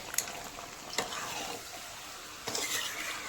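Meat is stir-fried in a karahi for a cauliflower and meat curry, a spatula scraping in a few distinct strokes over a soft, steady frying hiss, close and fairly quiet, no talking.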